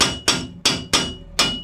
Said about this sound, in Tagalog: dyan talaga yan pinupukpok para lumabas yung brake drum